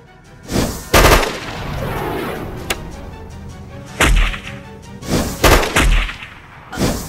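Several sharp gunshots ring out in separate bursts during a film hostage standoff, loud and close, with a low rumbling background between the shots.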